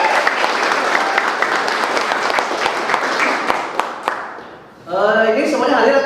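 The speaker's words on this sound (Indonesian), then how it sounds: "Tepuk tangan untuk semua." A classroom of students bursts into lively applause, a dense sustained patter of many hands clapping that fades after a few seconds before voices respond together.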